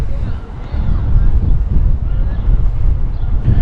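Heavy wind buffets the microphone in a constant low rumble, loud and blustery throughout with no letup.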